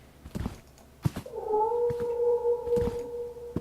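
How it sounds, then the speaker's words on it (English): A cat meows in the horror adventure game The Last Door, a drawn-out, wavering yowl holding steady after a few short sharp knocks, loud and close with no talk over it. "you can hear this cat meowing in your ear"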